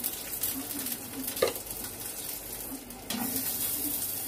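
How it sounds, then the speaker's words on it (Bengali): Onion goes into a pan and fries with a faint, low hiss. A couple of brief utensil scrapes and knocks stand out close by, with no talking. "পেঁয়াজটা দিয়ে দিলাম"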